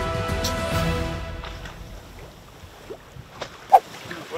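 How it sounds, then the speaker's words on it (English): A boat's engine hums and fades off across the open ocean, leaving wind and faint splashes with a few soft knocks near the end. "And there goes the boat."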